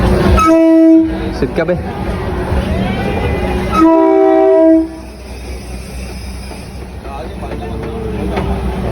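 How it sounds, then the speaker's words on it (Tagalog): A train passing in Thailand sounds two loud, sustained horn blasts over a continuous rolling rumble, with people talking nearby. "Kaya pabalik na yung train."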